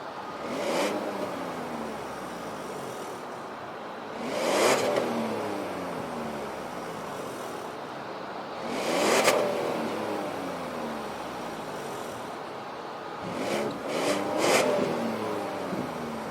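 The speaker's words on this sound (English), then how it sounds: "we're about to get the stock revs right now of how it sounds right now, currently" A Ford Fusion Sport on its stock exhaust revs in four separate bursts over a steady idle. Each rise is short and fairly subdued, with the engine note swelling and falling back each time.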